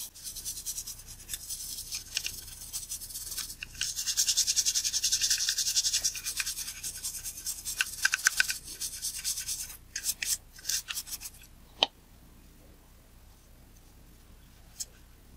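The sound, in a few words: toothbrush scrubbing camera with alcohol-water solution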